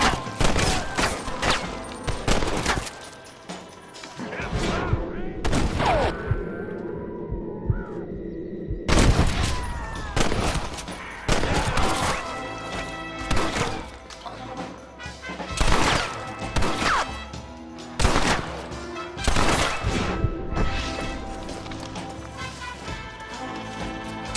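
Repeated gunfire in the Western video game Red Dead Redemption, sharp shots and bursts cracking through much of the clip amid crashes, with a brief lull in the middle.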